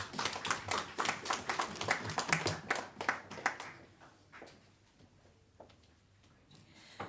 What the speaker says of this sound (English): A round of applause again for Honorable Kavaka, please.